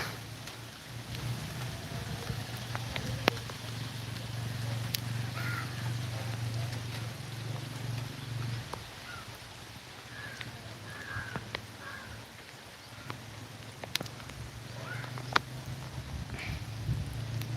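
Rain falls steadily on a garden behind a house, a constant soft hiss over a low hum, with occasional crow caws and sharp ticks of drops scattered through it.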